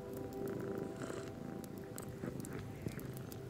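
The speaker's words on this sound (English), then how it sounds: "The purrs of glee were so loud" Close, continuous purring of two cats with a soft rumbling rhythm, accompanied by faint clinks and small movements nearby.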